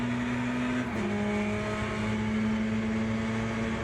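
A Ferrari GT3 race car engine in the racing game Le Mans Ultimate, droning steadily at high revs with a clear tonal whine and one brief pitch dip from a gear change, continuous and close.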